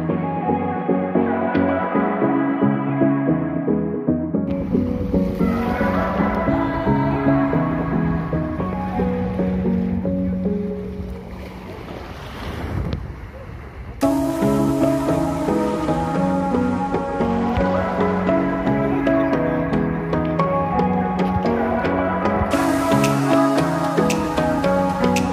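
Waves wash and lap alongside a boat on the Red Sea at a beach in Aqaba, Jordan. A steady, layered roar of water and motion runs throughout with a short quieter dip near the middle.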